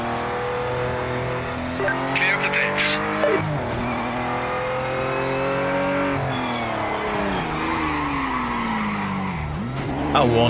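Race car in the Project Motor Racing game on PS5, engine droning steadily with shifting pitch while tyres squeal and scrub through corners, loud and continuous, with a voice talking briefly.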